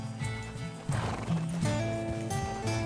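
A horse in the video game Red Dead Redemption 2 whinnies and snorts up close while its hooves clip-clop steadily throughout, with no talking.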